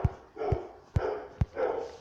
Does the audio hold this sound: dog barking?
yes